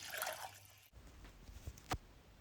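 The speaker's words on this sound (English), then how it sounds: "get 1 cup of milk. I'm using semi-skimmed milk. Just want to pour that in." Semi-skimmed milk poured into a pan while cooking mac and cheese, heard as a soft liquid pour with a few small drips and splashes after a brief burst of noise, close and fairly quiet.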